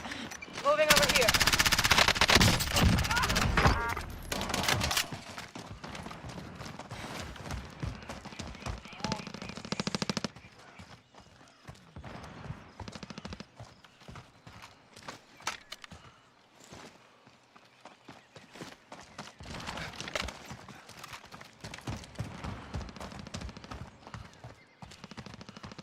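Bursts of automatic gunfire in a military shooter video game: a dense, loud volley early on, then scattered shots and clatter continuing under intermittent talk.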